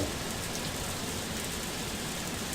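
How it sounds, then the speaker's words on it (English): Steady rainfall in the video game Harvest Moon: A Wonderful Life patters densely and evenly, a continuous wash of drops with no voices. "Also, I realize it's still raining."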